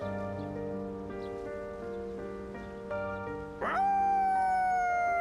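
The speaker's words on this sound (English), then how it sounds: "Koromaru's howl sounds throughout the quiet shrine." Koromaru the dog howls in a quiet shrine in Persona 3 Reload, one long clear rising-then-falling howl entering late, loud and close, over sustained ambient music tones.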